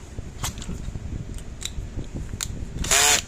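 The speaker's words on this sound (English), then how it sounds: "I'm trying to get the right bit in there to take these screws out" A power screwdriver working on the housing of a Zareba circuit board, a few faint clicks under a low background hum, then one loud close whir of the motor near the end.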